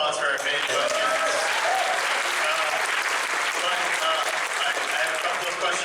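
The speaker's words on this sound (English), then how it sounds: "round of applause for our fan questions" A live audience at a talk show with a guest applauds, a steady, full round of clapping that stays loud and even for several seconds with some voices mixed into the crowd noise.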